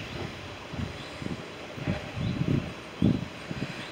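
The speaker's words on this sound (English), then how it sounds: "it is windy today" Wind blowing outdoors on a countryside hike near Dolebury Warren and Burrington, coming as soft irregular gusts and buffets of rumble against the microphone, fairly faint, with no talking.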